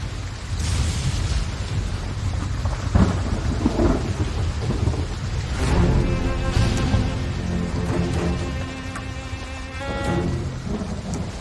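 Steady heavy rain roars throughout, with a deep rumble beneath and a sustained tonal hum rising in the second half.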